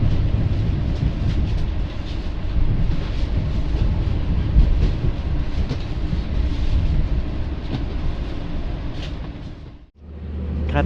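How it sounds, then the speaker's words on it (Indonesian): Ranggajati passenger train pulling into Cirebon station, a loud continuous rumble with rattling wheels heard from on board, steady throughout before dropping briefly near the end. "Kereta api Rangga Jati masuk stasiun Cirebon tepat."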